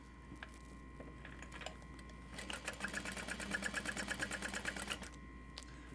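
Sewing machine top stitching a bag made as a backpack, starting with a few slow stitches before a rapid, even run of mechanical clatter that stops abruptly, quiet and close.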